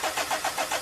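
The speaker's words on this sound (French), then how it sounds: "Actionnez le démarreur." A diesel car's starter motor cranks the engine during a fuel injector test, a loud, quick, even whirring pulse repeating about seven times without catching, and no voices.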